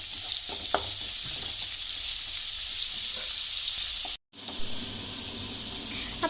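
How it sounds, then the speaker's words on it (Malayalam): Cauliflower and potato sautéing in a pan for a curry, a steady close sizzle with occasional stirring scrapes, briefly cutting out for a moment before the frying resumes. "നമുക്കൊന്ന് വഴറ്റിയെടുക്കണേ"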